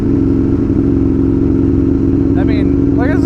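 An Aprilia RSV1000R motorcycle exhaust drones steadily and loud throughout, a continuous low engine note with faint clattering near the end.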